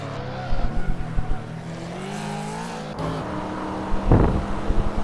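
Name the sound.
car braking and skidding in the Hot Wheels video game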